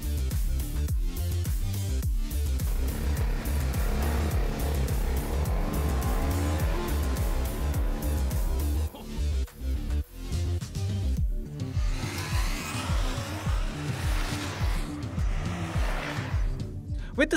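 A BMW C 400 GT scooter and a BMW G 310 RR motorcycle launch together in a drag race, with loud, steady engine roar throughout, rising revs and a brief dip midway before both pull hard again.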